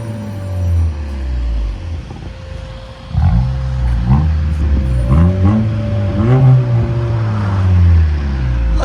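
A straight-piped 1.5L 2022 Honda Accord revs loudly near the listener, several rising and falling throaty engine pulls with a raspy exhaust tone, no talking.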